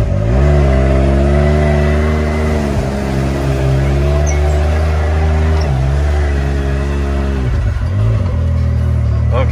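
Off-road vehicle in four-wheel drive sport mode revving hard through a mud hole, a loud, close, continuous engine roar with rising and falling revs throughout.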